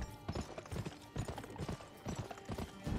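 A horse being ridden in the Western video game GUN gives rapid, crisp clip-clopping hoofbeats in a steady galloping rhythm, loud and close throughout.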